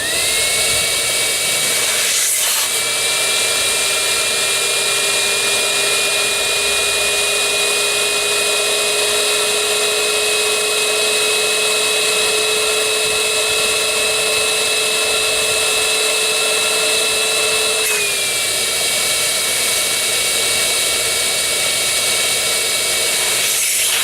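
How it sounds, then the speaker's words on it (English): A loud, continuous whine from a two-stage blower inflating the cross tubes of a Creature Craft, holding one steady pitch before stepping up early on and dropping back near the end. "We're using a 2-stage blower, so you can hear the change in the pitch as we put more pressure in the front and the back tubes."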